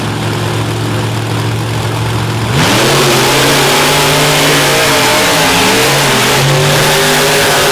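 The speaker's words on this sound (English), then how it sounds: "Toxic and Avenger for the Monster Truck Finals." Monster trucks Toxic and Avenger roar off the line in a racing final, engines jumping from a steady idle to a loud, sustained full-throttle blast with rising and shifting revs, very close and overpowering.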